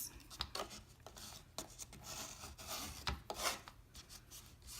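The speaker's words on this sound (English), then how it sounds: "just use your scraper tool to make sure that everything's down flat and in the right place" A scraper tool rubs across a vinyl stencil laid on a wooden sign, giving quiet, close scratchy strokes repeated irregularly in short passes.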